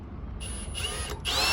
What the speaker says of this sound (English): Re-drilling the holes.